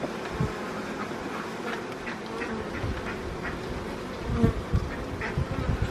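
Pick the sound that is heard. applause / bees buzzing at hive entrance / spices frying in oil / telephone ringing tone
bees buzzing at hive entrance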